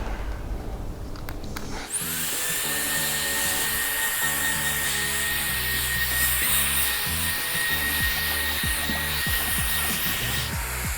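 A Ryobi vacuum cleaner switches on after a brief pause, then runs with a steady, loud whine and airy roar, broken by occasional bumps and scraping knocks, with no talking.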